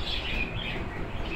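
Pet birds chirping in a busy overlapping chorus of close tweets while they wait at feeding time for summer soft food, with no voices.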